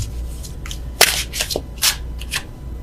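Tarot cards being shuffled and drawn by hand, several short papery riffles and flicks spaced across a few seconds, close and fairly quiet over a low background hum.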